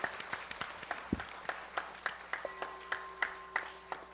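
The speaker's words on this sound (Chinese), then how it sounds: "让我们以热烈的掌声欢迎大家来参加同修" An audience at a Buddhist group practice session in a Seattle temple claps in a steady, evenly spaced rhythm, faint and somewhat distant, over a low sustained hum.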